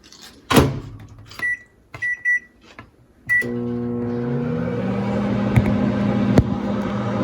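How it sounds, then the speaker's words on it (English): A few clicks and beeps from buttons, then a microwave oven starts and hums steadily with a low mechanical drone for several seconds. "Microwave to mix it up"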